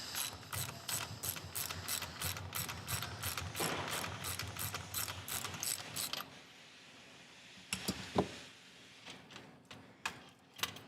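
A ratchet socket wrench working a bolt on a Mustang, giving a rapid run of close clicking strokes, then a quieter stretch with a few scattered clicks and knocks.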